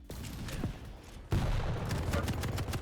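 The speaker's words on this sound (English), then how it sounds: "Good dodge of the rockets there by GaRpY" Rockets firing and exploding during a Quake match, a rapid burst of sharp blasts and impacts with a brief lull before a louder second flurry of fire, close and unbroken by talk.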